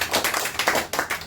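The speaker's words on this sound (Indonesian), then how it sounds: "Beri tepuk tangan buat Tuhan Yesus." A church congregation claps in a steady rhythm, a brisk run of repeated hand claps from many people with no voices over it.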